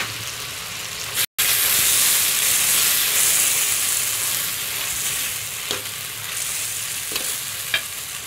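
Curry leaves sizzle and crackle in hot oil over a medium flame while cooking tomato egg rice, a loud, steady frying hiss with a brief cutout early on and a few stirring clicks near the end.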